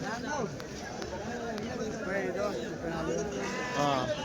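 Goats bleat repeatedly at a busy weekly goat market in Kadiri, their wavering calls rising over the chatter of many people talking nearby.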